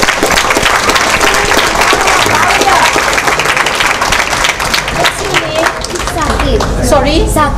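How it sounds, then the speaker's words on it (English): A large audience at a calligraphy business talk claps vigorously in a dense, lively burst, with excited voices and cheers mixed in and rising toward the end. "It's Sanjana, he needs a big round of applause"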